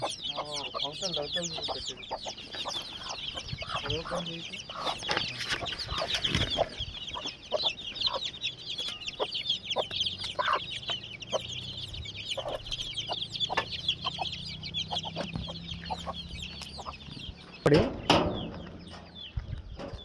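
Free-range country hens with their chicks cluck and peep continuously in a farmyard kept for sale, with people talking over them and a louder burst of noise near the end.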